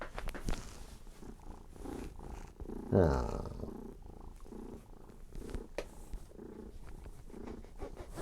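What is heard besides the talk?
cat purring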